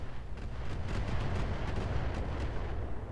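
Continuous weapons fire and booming impacts from the mech combat game Roguetech roll together into a dense, rumbling barrage that stays loud and steady, with no clear gaps between the blasts.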